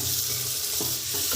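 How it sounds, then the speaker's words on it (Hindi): Vegetables dropped into hot tadka in a pan give a loud, continuous hiss and sizzle, with a few soft stirring knocks over the frying. "अब इसमें बस सब्जियाँ डाल देता हूँ।"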